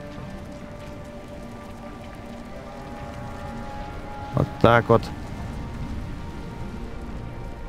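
Rain falls in the video game The Universim, a steady soft patter and hiss throughout. Someone briefly speaks over it partway through.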